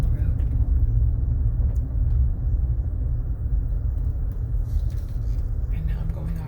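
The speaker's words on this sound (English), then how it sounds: "While driving on the road." A car drives along a road, heard as a steady, loud low rumble from inside the cabin that holds constant throughout, with no voices in the clip.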